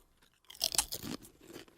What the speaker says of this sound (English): That is crunchy.